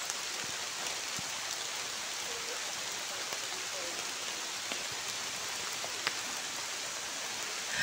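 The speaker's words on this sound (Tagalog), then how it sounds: "Ayan ang ulan." Steady rain falls outdoors at a dwarf coconut planting site, an even close patter of drops on surfaces with a few louder individual drips, no talking.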